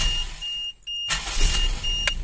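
A carburettor Toyota Kijang engine cranks and catches with a sudden loud rumble about halfway through, after a quiet stretch with thin electronic beeps, then idles roughly to the end.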